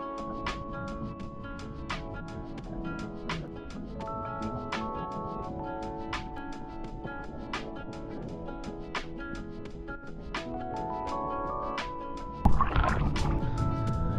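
Sound heard from a GoPro held underwater while a fishing lure is swum off Rockingham, Western Australia: muffled, steady tones and rhythmic clicks, then a burst of bubbling sloshing near the end.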